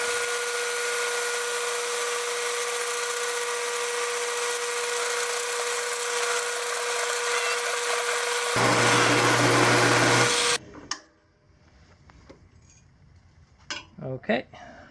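A power drill bores a 12 mm hole, whining steadily at high speed, its pitch shifting lower near the end before cutting off, followed by clinks and handling noises.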